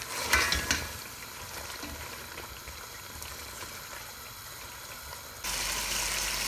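Meat and potatoes with cumin and spices fry in a pan for aloo gosht, giving a steady bubbling sizzle and occasional stirring clatter that jumps louder near the end.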